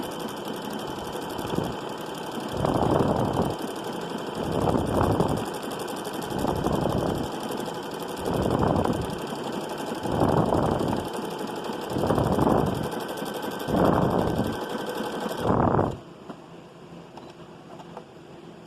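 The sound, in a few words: sewing machine stitching a buttonhole on children's overalls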